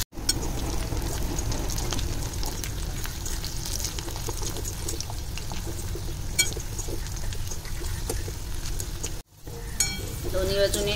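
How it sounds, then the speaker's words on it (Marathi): Slices of suran, elephant foot yam, fry in a pan with a loud, steady, dense sizzle that runs almost unbroken, cutting out for a moment near the end before resuming. "आता हे छान दोन्ही बाजूने मस्त फ्राय करून घेणार आहोत आपण"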